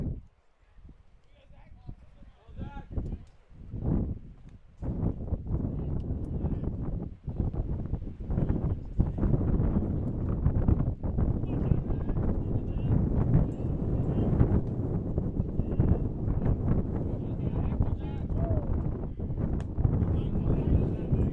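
Wind gusts buffet the microphone at an outdoor high school baseball game between Ringgold and Belle Vernon, a steady broadband rumble that swells and persists through most of the stretch after a quieter opening.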